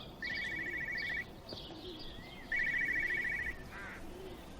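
A telephone rings in the video game Everybody's Gone to the Rapture, two long electronic trills separated by a pause, clear over a quiet ambient background.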